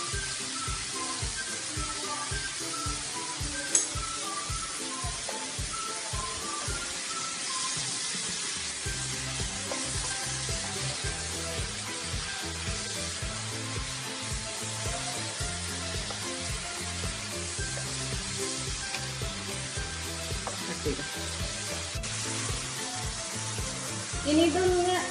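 Onions sautéing with salt in a pan for chicken curry, a dense continuous sizzle and hiss with rhythmic stirring thumps, close and steady throughout.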